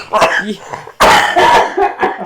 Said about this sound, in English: He may die coughing.